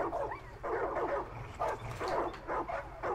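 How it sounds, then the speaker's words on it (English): In Far Cry 5, a dog barks repeatedly in a rough, uneven rhythm of about five or six sharp bursts, close and steady in volume, with no voices over it. "The dog is pissed off at those cardboard boxes."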